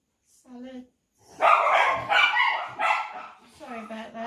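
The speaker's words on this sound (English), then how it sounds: "That's the dogs. Our next door neighbour's dogs have obviously just gone out." Neighbour's dogs barking outside a home, a few short barks near the start, then someone speaking over further faint yips.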